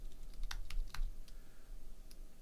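A burst of rapid keystrokes on a computer keyboard, close and distinct, followed by a few scattered taps over a low background hum, with no talking.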